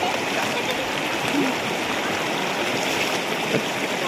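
The Nibel Khola river flows steadily near the bank, a constant broad rushing and gurgling of water that fills the scene evenly without pauses.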